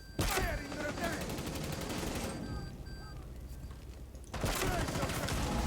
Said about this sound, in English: Firing grenade.